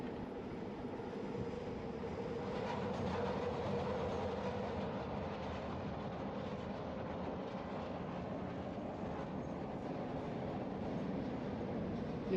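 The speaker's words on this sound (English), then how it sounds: "You're hearing the train above us." An elevated train rumbles overhead in a steady, muffled roar that holds for the whole stretch, heard from street level below with no speech.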